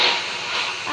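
A steady rumbling Roblox video game train with a hissing, steamy wash of noise, continuous and fairly loud throughout.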